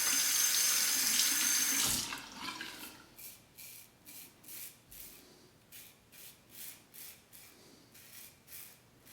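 Tap water gushes loudly into a sink while a razor is rinsed during a shave. It cuts off after two seconds, followed by a steady series of soft, rhythmic razor strokes.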